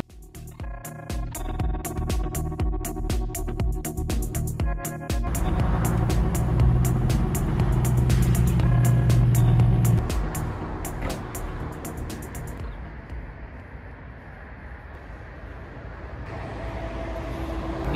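A new drift car body rolls along with a steady engine drone and road rumble, loud and continuous, swelling in the middle then easing off into a lower hum.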